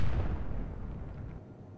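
A single heavy boom from a submarine's lone deck gun in the naval game Atlantic Fleet, a loud close blast that rolls off into a fading low rumble.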